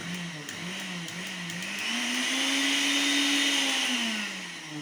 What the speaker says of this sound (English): this blender run past Usain Bolt